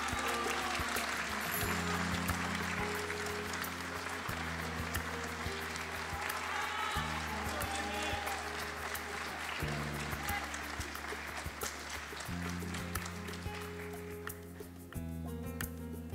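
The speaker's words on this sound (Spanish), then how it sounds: "Un fuerte aplauso a don Jorge Rubio Díaz" Audience applause for an award recipient at a municipal public accounts ceremony in San Vicente de Tagua Tagua, steady clapping from a crowd throughout, over a looping background music track.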